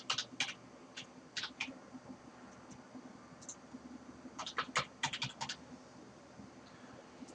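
Login and password typed on a computer keyboard: quiet bursts of quick, crisp key clicks in short clusters, with pauses between them against faint room noise.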